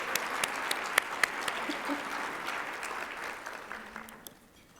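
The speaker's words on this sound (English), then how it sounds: "let's give them a big round of applause" Audience applauding at a business awards luncheon, steady dense clapping with a few sharp individual claps standing out, fading away toward the end.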